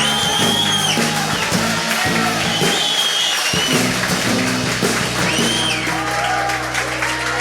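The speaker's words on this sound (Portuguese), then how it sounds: "aplauda o nome do Senhor, aplauda o nome do Senhor, mais forte" Church congregation clapping during live Portuguese-language worship, a steady wash of applause over loud music with a low sustained bass line and brief shouts.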